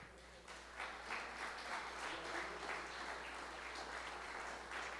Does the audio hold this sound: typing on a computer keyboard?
no